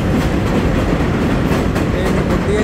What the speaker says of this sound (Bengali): ওই যে ট্রেন যাচ্ছে উপর দিয়া